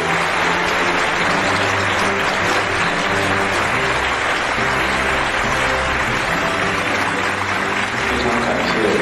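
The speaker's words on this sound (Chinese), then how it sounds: "掌声在这里呢。" Wedding guests applaud in a steady, dense wash of clapping that fills the room and holds at an even level from start to finish.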